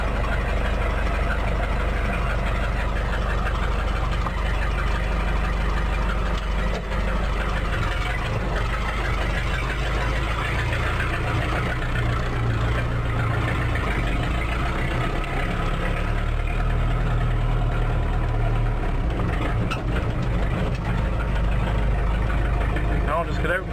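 A diesel-type engine idles steadily after a brief intake-heater warm-up, a continuous low rumble with a faint knocking texture running unbroken and fairly close throughout.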